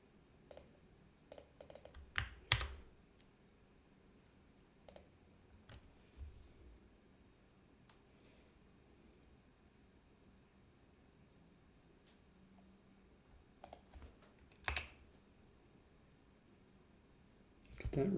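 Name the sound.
typing a password on a computer keyboard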